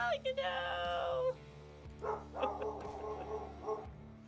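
A cockapoo barks and yips from a distance in short bursts, partly under nearby talking voices and a steady low hum.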